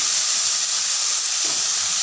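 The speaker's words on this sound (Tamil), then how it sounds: "ஒரு காஞ்ச மிளகாய், கருவேப்பிலை, தக்காளி போட்டு நல்லா வதக்கிக்கலாம்" Dried chilli, curry leaves and tomato are being sautéed in a pan, giving a steady, close, continuous sizzle and hiss with no talking.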